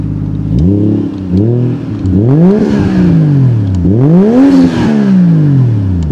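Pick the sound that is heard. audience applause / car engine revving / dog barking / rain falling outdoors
car engine revving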